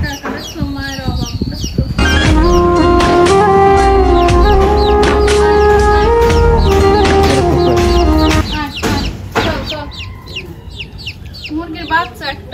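Hens and several young chicks cluck and cheep loudly and close by, with a sustained burst of calling in the middle, a voice speaking over part of it.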